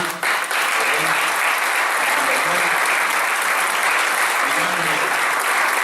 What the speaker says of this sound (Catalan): m'agradaria donar un fort aplaudiment a l'Esperança